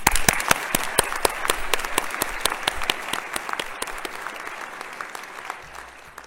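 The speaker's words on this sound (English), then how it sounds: "A round of applause." Audience applause at a graduation ceremony, a dense roll of many hands clapping with sharp individual claps standing out, steady and fairly loud before gradually thinning toward the end.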